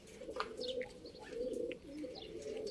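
Pigeons on a rooftop loft give low, soft coos in a continuous murmur, with a few faint chirps scattered over it. All of it sounds fairly quiet and close.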